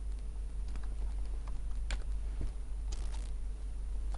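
Typing on a computer keyboard, sparse light key clicks with a few louder taps, close and isolated over a steady low hum.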